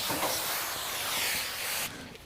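A spray bottle of cleaner squirts onto a surface in a short burst of hissing mist, close to the microphone, ending abruptly.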